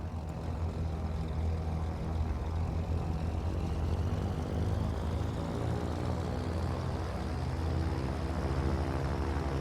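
The left engine of a Cessna 414 in Microsoft Flight Simulator starting and settling into a steady droning run, with a low propeller hum and a rising whine, moderately loud throughout.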